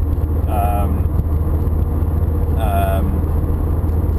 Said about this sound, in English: the road noise is a little bit annoying. I'm still on the original tires.